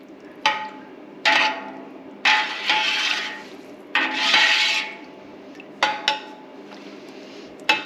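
A spoon stirs ripened non-pasteurized, non-homogenized milk with its risen cream in a pot for cheddar cheese, making irregular scraping swishes and sharp clinks against the pot, close and fairly loud, with short quiet gaps.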